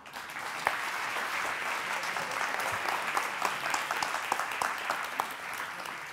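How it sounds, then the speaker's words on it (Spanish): An audience applauds at a live science show, with brisk crowd clapping sustained throughout and individual sharp claps popping out of the dense patter. "Un aplauso, por favor."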